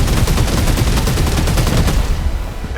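Rapid continuous gunfire from shooting enemies in 13 Sentinels: Aegis Rim, a dense loud burst of shots lasting a couple of seconds before cutting off.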